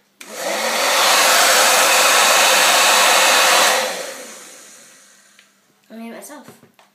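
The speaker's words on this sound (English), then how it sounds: "if you blow wind on this bit, it makes it turn to face the wind" Steady rush of air blown onto a homemade toy wind turbine, loud and continuous for several seconds before fading, followed by a brief burst of a voice.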